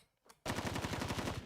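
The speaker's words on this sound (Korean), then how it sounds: "총소리?" After a brief quiet moment, a sustained burst of rapid automatic gunfire erupts and hammers on loudly without pause, in the video game Blue Archive.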